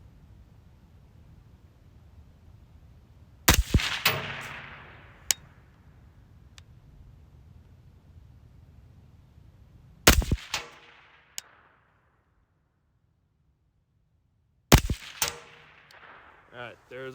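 Three rifle shots fired during zeroing with an IRAY RH25 clip-on thermal sight ring out several seconds apart. Each is a sharp, loud crack with a short ringing decay over a low background hum.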